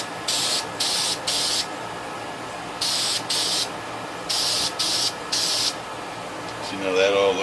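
Spray paint hisses from an aerosol can onto a scale model in short bursts, about eight of them, each roughly a third to half a second long with pauses between, close and loud over a faint background.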